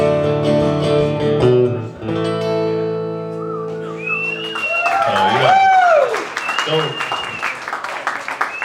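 Audience applause with whistles and whoops from a crowd at an acoustic country show in a club, swelling after the guitar playing stops, loud and close, with someone talking.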